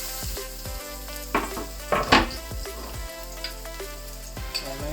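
Garlic dropped into hot cooking oil for egg fried rice sizzles and crackles up close, with sharp spattering bursts and a few clinks of a utensil against the pan.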